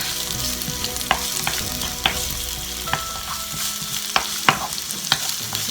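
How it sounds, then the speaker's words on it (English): Onions sauteing in a frying pan for a quick Vietnamese pork dinner, a steady close sizzle with occasional sharp clicks of a utensil stirring against the pan, no voices. "I'm going to let these saute for a moment until they become translucent."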